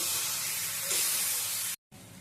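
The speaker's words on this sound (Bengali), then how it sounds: "আর দিয়ে দেবো একটু সামান্য মশলার বাটি ধোয়া জল।" Spice-bowl rinse water hits a hot pan of fried potatoes and vegetables with a bright, steady hissing spray that cuts off abruptly near the end, quiet and without talk.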